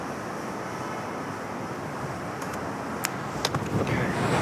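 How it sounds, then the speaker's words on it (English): Wind buffets the microphone outdoors, making a constant broad rumble and hiss, with a few faint clicks and light knocks near the end. "It's a little windy."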